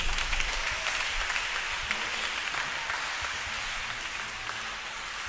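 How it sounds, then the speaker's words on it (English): A church congregation claps for a visiting monsignor at a children's Mass, a dense wash of applause that stays steady throughout and eases slightly toward the end. "Let's clap for Monsignor"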